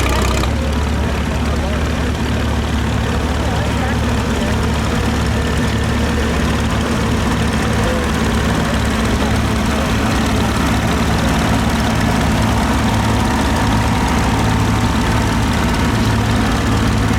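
A 1968 model 435 tractor idles at a threshing show in Edgerton, Wisconsin, its steady low engine rumble running continuously and fairly loud throughout, with an auctioneer-style announcer talking over it.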